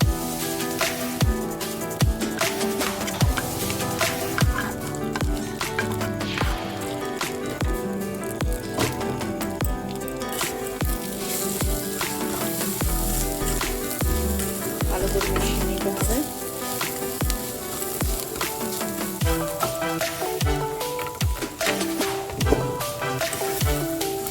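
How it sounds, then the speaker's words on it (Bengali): Fried vegetables go into sooji upma that is browning in a pan. It crackles and sizzles steadily throughout, with stirring and scraping sounds over the frying and a bit of background noise. "ভেজে রাখা ভেজিটেবলটা দিয়ে দিচ্ছি।"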